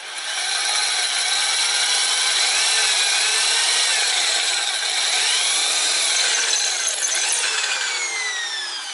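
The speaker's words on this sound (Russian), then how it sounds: "Победитовым буром просверливаем в нем отверстие так посередине." A carbide drill bit bores a hole through the middle of a sharpening stone block, giving a continuous, loud grinding whine with shifting, sweeping pitch for several seconds, with no voices.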